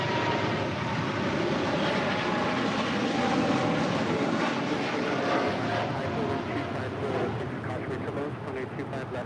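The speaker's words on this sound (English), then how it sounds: "That is Cargo LAX 43 X-Ray departing to Luxembourg on a 747-8 freighter." A Boeing 747-8 freighter departing LAX for Luxembourg gives a loud, continuous broadband roar that holds steady and eases slightly toward the end.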